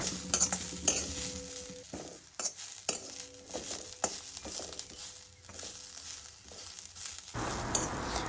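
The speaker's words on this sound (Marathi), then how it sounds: "त्याच कढईमध्ये एक उभा चिरलेला कांदा आहे तो टाकून घ्यायचा आणि साधारण पाच मिनटं ते मिश्रण भाजून घ्यायचं आहे" Sliced onion with coconut roasting in a kadhai, stirred with a spoon in repeated scraping strokes over a soft, steady sizzle. The sound is close and moderately loud, with no talking.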